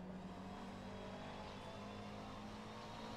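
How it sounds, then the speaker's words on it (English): A McLaren race car runs alongside in the rFactor 2 racing game, a steady engine drone with a low tonal hum, fairly quiet and continuous, with no talking. "I hear a car next to me."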